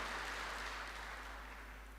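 Audience applause at a memorial service for Dr Frene Noshir Ginwala, a steady broad wash of many hands clapping throughout, fairly distant and sustained, fading slightly toward the end, no talking.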